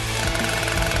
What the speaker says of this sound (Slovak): tak použijeme túto motorovú pílu